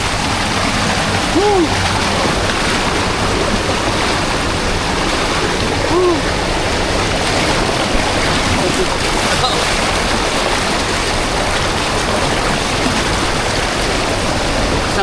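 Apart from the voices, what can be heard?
strong waves of rushing water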